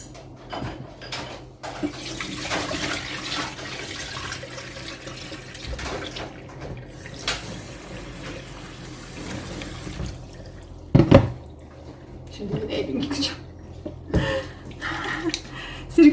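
Tap water running into a kitchen sink while produce is washed and soaked in vinegar water, a soft steady trickle with occasional splashes and clunks, fairly quiet throughout.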